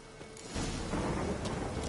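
Thunder rolls in during a storm in the video game Witcher 3, a deep rumble that swells abruptly after a quiet start and sustains as a broad, heavy roar.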